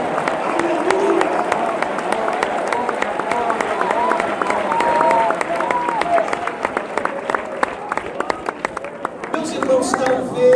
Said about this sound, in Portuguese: Palmas misturado com glória a Deus.